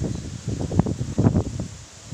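Cyclone Mandous winds rush through tall coconut palm fronds in uneven gusts, a low rustling roar swelling and fading close by.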